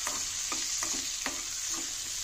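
Pumpkin pieces fry in oil in a pan, giving an even, bright sizzle with several soft scraping stirs of a spatula spaced about every half second, close and with no talking.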